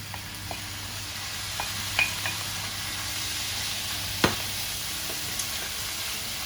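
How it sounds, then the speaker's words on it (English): Minced meat goes back into a hot pan of cooked-off chilli spices, sizzling steadily and close, with a few sharp knocks and scrapes of stirring breaking through the hiss. "so we are now going to add back in our mince"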